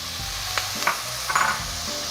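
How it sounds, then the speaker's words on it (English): Onions and red pepper frying in a pan for a Jamaican chicken curry, a steady close sizzle with a few brief stirring clinks and no talking. "I am just gonna brown this until the onions start to caramelize a little bit here"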